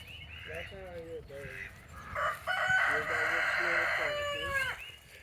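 Rooster crowing on a farm with rescued animals, a white bird among them, giving several drawn-out crows with clucking fowl around it, close and fairly loud, while people talk quietly nearby.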